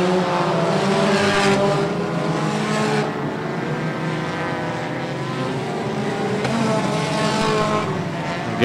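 Race cars in a Hornet class feature at Brownstown Speedway, a dirt track, roar past with loud, continuous engine drone that swells and fades as the cars pass close by.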